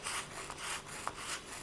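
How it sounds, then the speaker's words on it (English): Polymer clay being sanded by hand with 400 grit polishing paper, a soft steady rasping rub in repeated strokes, close and fairly quiet with no voices. "all I'm doing now is I'm seeing how much sanding I can get away with"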